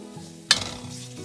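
Milk being stirred into a green bean casserole mixture in a pan over low heat, with a short spoon scrape against the pan and a soft steady sizzle running under it.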